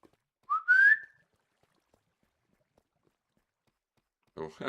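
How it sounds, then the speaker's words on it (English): A single loud rising whistle to call a corgi, brief and sharp, followed by a long silence before a voice starts speaking at the end. "How loud that whistle is."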